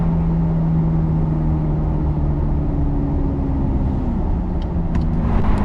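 A Ferrari F430 with a gated six-speed manual drones loudly from inside as it accelerates, a steady engine tone rising in pitch before easing at a shift, with wind noise blending in.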